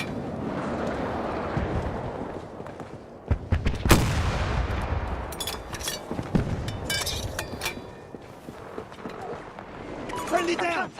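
Battlefield 2042 gunfire: several loud, sharp shots and a heavy blast ring out among scattered, crackling bursts, with voices talking over the battle noise.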